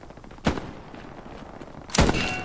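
Two sharp rifle gunshots in the World War II shooter Hell Let Loose, a crack near the start and a louder one near the end, each with a short ringing tail over steady background ambience and no talk.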